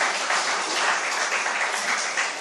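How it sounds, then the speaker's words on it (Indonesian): A church congregation at a GKJW service in Donorojo, Pacitan, gives a steady round of applause, a dense, even wash of many hands clapping at moderate distance throughout, with no voices on top. "Kita berikan tepuk tangan sekali lagi Bapak Ibu."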